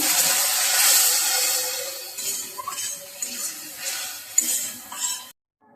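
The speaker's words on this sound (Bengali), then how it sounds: "জিরে গুঁড়ো ধনির গুঁড়ো আর মরিচ গুঁড়ো হলুদ গুঁড়ো সব একসাথে কষিয়ে নেব" Ground cumin, coriander, chili and turmeric being sautéed together in a pan for a river fish curry, a sizzle under repeated scraping and clinking of a spoon against the pan, close and moderately loud, stopping abruptly.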